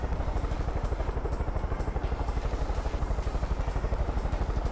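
Armed helicopter in the video game Far Cry 5 flying, with steady, rapid rotor chopping pulses over a dense engine whine, loud and close throughout, no talk.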